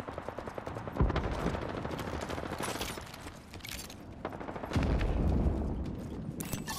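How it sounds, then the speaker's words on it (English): Enemy gunfire in Apex Legends, heard as rapid bursts of shots at moderate distance with sharper nearby impacts, running steadily with a few louder spikes. "They're shooting at me."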